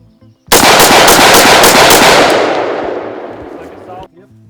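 Rapid rifle shots fired in a bill drill at a shooting range, a fast burst of sharp cracks merging into a loud continuous roar that decays into echo before stopping abruptly.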